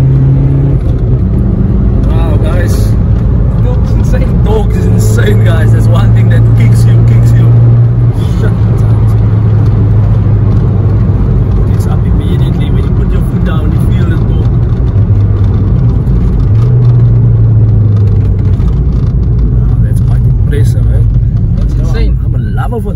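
A VW Polo TDI fitted with a bigger turbo revs its engine up close, a loud, steady diesel drone with rising and falling swells lasting throughout, while people talk over it.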